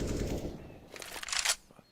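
Rifle fire in a CS:GO match, a quick, faint burst of rapid shots standing out briefly against the low background rumble of the game.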